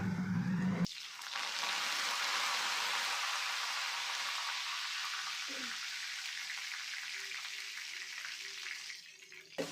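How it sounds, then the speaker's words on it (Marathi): Cumin seeds and washed curry leaves hit hot oil for tempering and set off a loud, steady sizzle that fades only a little over several seconds, with a brief clank near the middle. "याच्यात थोडीशी जिरे टाकू आणि स्वच्छ धुवून घेतलेला कढीपत्ता फोडणीला."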